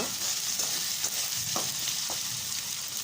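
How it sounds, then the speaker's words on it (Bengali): Ginger and garlic paste frying in oil for a village-style jackfruit curry makes a loud, continuous sizzle, broken by repeated scraping stirs. "আদা আর রসুন বাটাটা সুন্দর করে তেলে একটু ভেজে নিব।"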